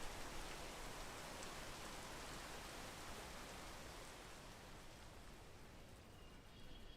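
Steady rain in the video game Peak, a dense, even hiss of falling drops that holds constant throughout, fairly quiet and with no voices.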